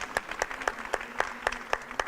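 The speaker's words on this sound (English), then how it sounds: "So big applause for yourself." A crowd claps together in a steady, even beat, about four claps a second, moderately loud.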